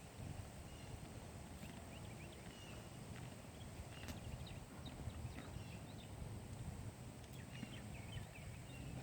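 Donkeys crunch pecans outdoors, a faint, irregular scatter of cracking and chewing over low background noise.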